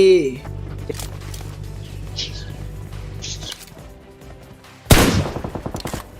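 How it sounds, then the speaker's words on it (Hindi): Video game gunfire from a hill, a loud sharp burst of rapid shots near the end following a humming stretch, with the shots trailing off in quick repeating cracks. "उतने ही मुझे रुजोक की पहाड़ी से गोली चलने की आवाज आती है"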